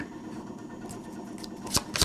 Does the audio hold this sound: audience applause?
no